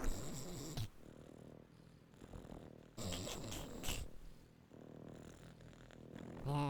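Cats in the Euro Truck Simulator 2 video game give a few faint mewing and purring sounds under a steady low rumble of in-game ambience.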